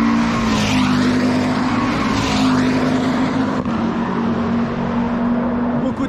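A 330 hp race car on a qualifying lap at a track, its engine droning steadily and loud from inside the cockpit, with brief tire squeal in the corners.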